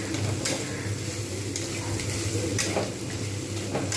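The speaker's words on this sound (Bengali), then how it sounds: "কুঁদরি পুরো ভাজা হয়ে গেছে আলুগুলোও পুরো সিদ্ধ হয়ে গেছে" Ivy gourd and potatoes fry in a little oil in a pan, a steady close sizzle broken by periodic scraping stirs of a spatula.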